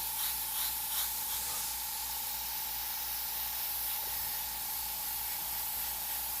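Airbrush spraying light red paint over a white base, a steady close hiss of air and atomised paint that runs unbroken throughout with no voices.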